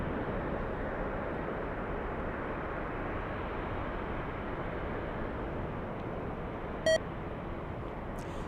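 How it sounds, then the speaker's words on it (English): A single short electronic battery-warning beep cuts through steady, loud broadband rumble at a plane-spotting spot at Los Angeles LAX airport, standing out briefly near the end. "That's a loud beep."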